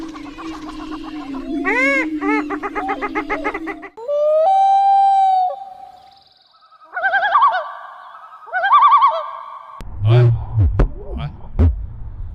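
Scary-sounding birds calling on a rural smallholding in Brazil, heard as a series of loud, repeated warbling and whooping calls in bursts separated by pauses, ending in a harsher, lower cluster of cries.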